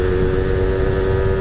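A Yamaha F1ZR two-stroke motorcycle engine held at high revs, loud and close, a steady buzzing drone with no break throughout.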